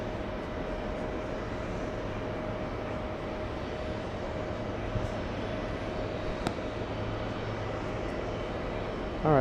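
Airbus A320 airliner near JFK airport, a distant steady jet roar with a faint whine.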